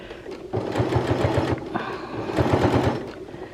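A sewing machine runs a blind hem stitch on a garment, two bursts of fast rhythmic mechanical clatter close by with a short pause between, no talking.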